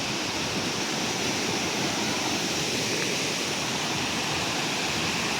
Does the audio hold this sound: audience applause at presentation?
no